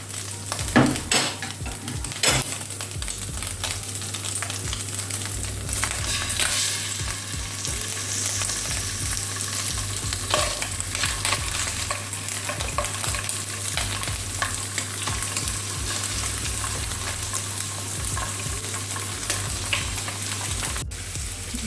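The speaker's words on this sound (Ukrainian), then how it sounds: "І продовжуємо смажити далі" Fish fries in oil in a pot for a stewed fish dish, giving a constant loud sizzle and crackle, with occasional clinks of a utensil against the pot.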